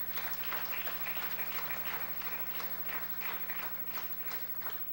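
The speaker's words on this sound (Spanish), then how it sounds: "Dele un aplauso al que vive." Steady applause from a church congregation, a dense continuous patter of many hands clapping at moderate volume.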